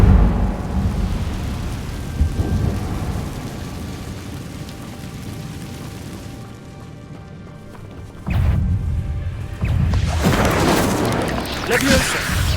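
In Hogwarts Legacy, a fire spell erupts in a deep underground passage as a loud, brief crackling whoosh, following an earlier rumbling spell blast amid steady low ambient noise.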